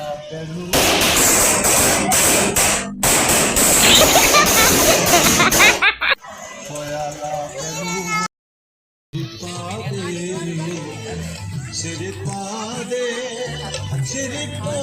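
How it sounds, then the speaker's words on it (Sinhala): A rapid, loud string of crackling firecracker bursts goes off for several seconds, then dies away, leaving voices talking nearby. "ඉතින් යාළුවනේ අපි රතිඤ්ඤා පත්තු කරන්න තමයි යන්නේ"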